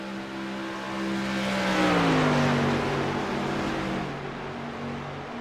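Street stock race cars roar around the Atlanta roval circuit, a loud engine drone that swells and pitches down as a car passes close, then settles into a steady rumble.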